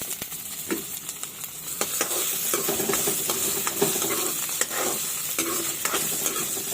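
Potato pieces fry in a pan of browned onion, a close, continuous sizzle broken by frequent scraping and clacking stirring strokes throughout.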